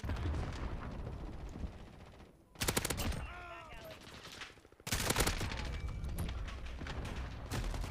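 Dense, loud video-game gunfire from Modern Warfare (2019) rattles in rapid automatic bursts, with a brief lull in the middle before the shooting resumes just as heavily.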